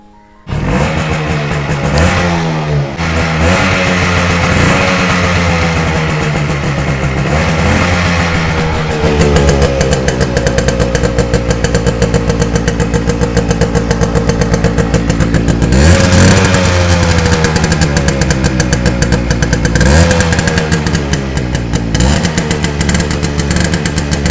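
A motorcycle engine idles loudly nearby with a steady, throbbing putter, revved up several times before settling back to idle.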